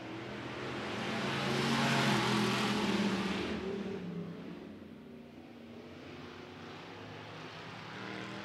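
Hobby stock race cars roar around a dirt oval at El Paso County Raceway, engine noise swelling as the pack passes and then fading into a distant steady drone.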